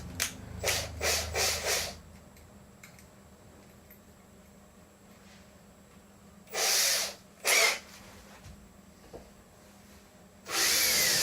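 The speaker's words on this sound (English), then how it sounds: "I wanted to pre-drill that end one because I didn't want it to split the countertop here" Several short bursts of a power drill pre-drilling wood for a countertop, spinning up and stopping, with a longer run near the end; a few sharp pauses between.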